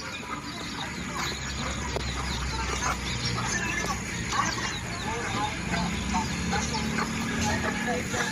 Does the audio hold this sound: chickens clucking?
yes